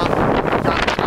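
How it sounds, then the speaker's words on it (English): Roaring 40-knot wind buffets the microphone aboard a Lagoon 380 catamaran running bare poles at sea, a loud continuous gusty rush filling the short moment with no voices. "right now we've got 40 knots of wind"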